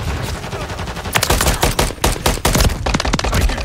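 Video game gunfire rattles in loud, rapid bursts of automatic shots, starting quieter and then hammering close and sharp in repeated volleys with no talking.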